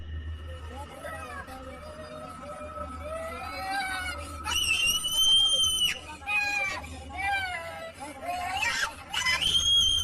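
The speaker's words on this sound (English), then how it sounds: "Although they pray, she continues to scream wildly." A girl screams wildly and in distress while two women pray over her, her high wavering cries rising loud and sustained over the steady murmur of their voices.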